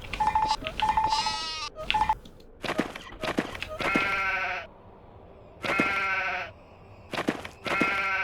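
Repeated sheep bleats from the sheep weapon in the video game Worms 3D, several short wavering cries separated by brief pauses, fairly close and clear over a quiet background.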